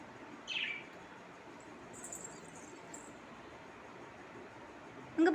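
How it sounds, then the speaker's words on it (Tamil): Pet lovebirds give a single brief chirp early on, then a few faint high calls follow over quiet room hiss, ending with a louder rustle. "லவ் பேர்ட்ஸ்மா அது."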